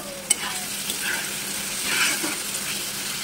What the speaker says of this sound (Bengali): ঢাকনাটা তুলে আবার আমি মশলাটাকে একটু নাড়াচাড়া করে নেব